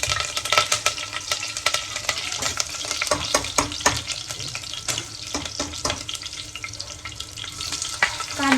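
Curry leaves dropped into hot oil after ginger-garlic paste while making sambar, crackling and spitting loudly up close with steady sizzling and stirring scrapes throughout, no talking.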